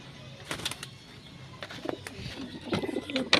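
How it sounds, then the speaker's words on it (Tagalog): Pigeons in a coop give soft, low coos scattered through the clip, with rustling and brief movement noises around them. "Yan, mga kalapatids."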